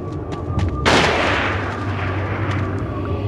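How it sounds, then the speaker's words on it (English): A single loud sniper gunshot in the PS2 horror game Siren cracks sharply and then rolls into a long fading echo over a low ambient hum. "I think we just gotta run past the sniper."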